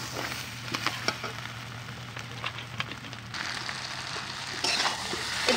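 Fried mud crabs being stirred into a pan of biryani, with a steady sizzle, a low hum underneath and scattered scraping clicks of the spoon, close and unbroken with no talk.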